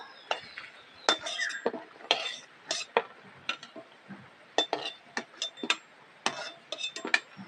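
Metal utensil clinks and scrapes against a pan as fried chhana jilapi are lifted out of the oil, a series of quick, light taps and clatters at close range.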